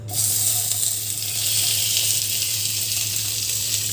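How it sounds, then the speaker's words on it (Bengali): Bone-in chicken pieces hitting a hot pot for a vegetable soup, an abrupt burst of sizzling that settles into a continuous loud, close hiss. "তো এই মাংসটা আমি এটার মধ্যে ছেড়ে দেবো"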